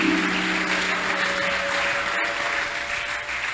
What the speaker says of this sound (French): Acclamons très fort pour la gloire de Jésus.